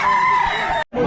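A gamefowl rooster crows loudly and close by in a drawn-out call at a pet market. It stops abruptly, then a brief rough squawk follows.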